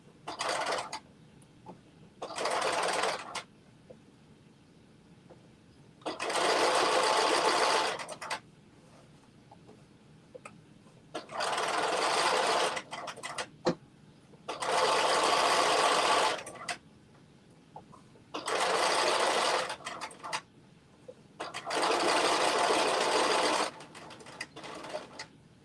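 A sewing machine stitches a jumpsuit hem in repeated bursts of rapid, loud running, each lasting a second to a few seconds, separated by quiet pauses with faint handling clicks.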